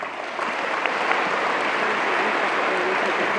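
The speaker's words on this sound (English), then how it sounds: "one more round of applause" A conference audience at a cystic fibrosis foundation plenary session applauds in a dense, steady wash of clapping that swells just after the start and holds loud and even throughout.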